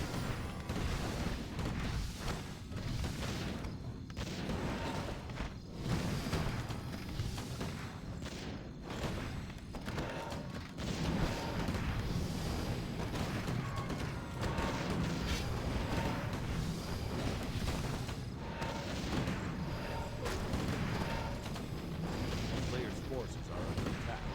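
Mortar team artillery fire in a Warcraft III match, heard as a dense, continuous din of booms and battle noise at steady loudness throughout.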